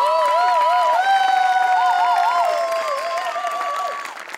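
Audience applause for writer Ajay Kamble at a Maharashtrachi HasyaJatra comedy stage show, a steady, dense clapping bed running under bright melodic music for about four seconds before easing off.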